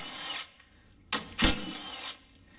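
A 10mm bolt being loosened from the top radiator brace of an accident-damaged car, heard as a few short, close tool bursts with quiet pauses between them.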